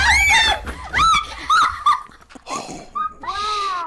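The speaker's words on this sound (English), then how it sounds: "Guys, check out my new dog." A dog in Minecraft whimpers and yips in a run of high, wavering cries, loud and close, with short gaps between them.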